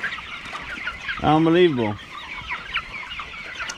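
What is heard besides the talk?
young broiler chickens clucking in field pens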